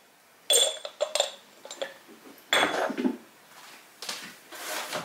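Grilled pork intestines being tossed with Korean chili in a metal bowl or pan, giving scattered clinks and scraping clatters in uneven bursts, close and moderately loud, with no talking.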